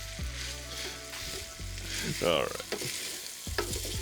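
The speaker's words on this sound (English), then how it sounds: "As we stir and incorporate, we're also going to scrape off any fond that starts to accumulate" Discada sizzles loudly on a snare cooker while a utensil stirs and scrapes the metal surface in repeated strokes, close up, with a brief spoken phrase partway through.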